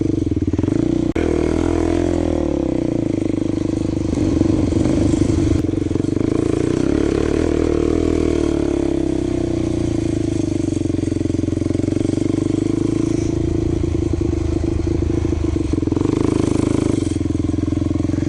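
Suzuki LT-Z400 ATV riding sand dunes in southern Utah, its engine droning loud and steady at close range throughout, with occasional rises in revs and faint clatter.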